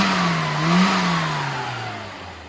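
A car engine being tuned at a motorsport workshop, with a carburetor due for rebuild, rises briefly as the throttle opens and then winds steadily down to a lower idle, loud and close.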